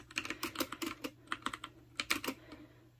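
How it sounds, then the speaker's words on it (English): Keys clatter on a Freewrite smart typewriter in quick, irregular bursts of close, crisp clicks, with short pauses between runs of typing and no voices. "And then I am free to type,"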